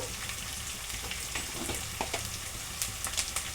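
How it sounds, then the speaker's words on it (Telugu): Onion, ginger-garlic paste and turmeric fry in a pan with a dense, even sizzle and small crackling spurts, close and steady, with no talk. "ఆనియన్ ఒకటి మనకి బాగా ఫ్రై అయ్యేటట్టుగా చూసుకోవాలి"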